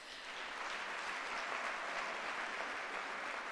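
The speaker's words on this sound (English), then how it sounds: "would you not give them a round of applause?" An audience at the UNISA 150th anniversary celebration gives the special guests a round of applause, a continuous, even roar of many hands clapping, fairly distant and without talk.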